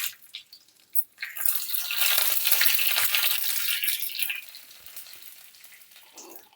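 Cumin, chilli and curry leaves hit hot ghee for rasam with a sudden loud sizzle that crackles steadily for a few seconds, then settles into a softer fry.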